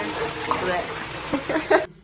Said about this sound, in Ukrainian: І ось Оля вимиває усі скляні баночки, тому що їх треба сортирувати, сортувати.